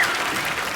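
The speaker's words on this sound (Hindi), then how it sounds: "जोरदार ताली लेने के लिए" A studio audience claps loudly for a brief moment at a comedy show, a dense, even wash of applause.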